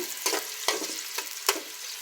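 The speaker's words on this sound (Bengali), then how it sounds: "পেঁয়াজ দিয়ে লাড়াচাড়া দিচ্ছি।" Onions sizzle in hot oil while being stirred, a steady crackling fry broken by four scraping sweeps of the spoon at a slow, uneven pace.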